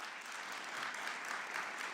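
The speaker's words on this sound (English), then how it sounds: "Let's give them another round of applause." Sustained audience applause at a leadership forum, a dense, steady wash of many hands clapping at moderate distance with no talk over it.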